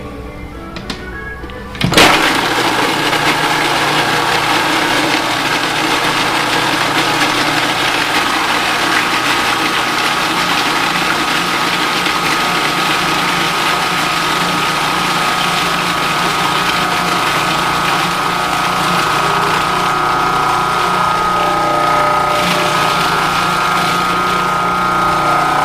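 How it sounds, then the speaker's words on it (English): A Cuisinart food processor is switched on after a click and runs as a loud, steady motor whir with a constant hum, close up, with no speech over it. "setting up our Cuisinart, making sure that it's hooked up correctly, the blade is in the proper position and sunk in properly"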